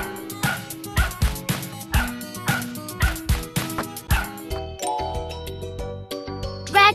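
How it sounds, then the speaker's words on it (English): Cartoon dog barks in a kids' animal puzzle game, a run of about a dozen bright, evenly spaced yips over a light musical backing, followed by jingly chime tones at the end. "Wow, this is a dog."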